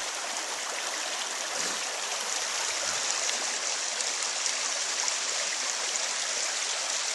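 Creek water flowing through woods, a steady, even hiss of running water with no voices.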